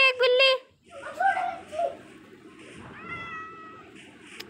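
A cat meowing in the video game Minecraft, a few short, clear meows spread through the clip, heard alongside a person talking and laughing.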